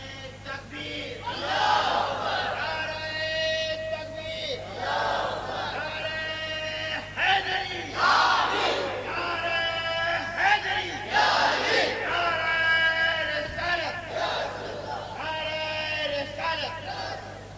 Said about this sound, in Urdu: مولا علی کا نعرہ لگتا ہے نا تو الگ ہی ماحول بنتا ہے